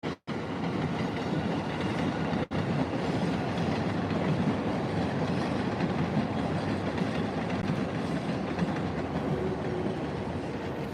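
Shinkansen bullet train at Tokyo Station, a steady loud rumble of rail and wagon noise with faint clickety-clack running continuously, with no talking.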